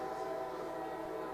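A storyteller's voice imitates a passing train at a storytelling festival, a steady held tonal rumble with a whistle-like quality, sustained at even loudness throughout.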